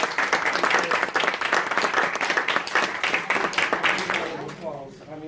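Close, loud applause from parents and jurors after a students' mock trial, a burst of dense clapping that thins and fades toward the end as a voice starts to speak.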